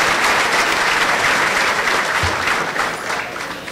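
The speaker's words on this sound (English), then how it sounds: "how about one more big round of applause for all the 2015 honor roll student athletes." Audience applause for 2015 honor roll student athletes at a scholar athlete luncheon, a dense, steady round of clapping from a sizable crowd that holds for several seconds and tapers slightly at the end.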